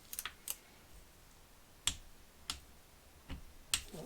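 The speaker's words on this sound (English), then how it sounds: "I'm taking them to 7 Newton meters with my smallest torque wrench first of all." A small torque wrench clicks while M6 bolts are tightened to 7 Nm into an alloy Honda CB750 engine case, giving a handful of faint, sharp, sparse clicks at close range in an otherwise quiet workshop.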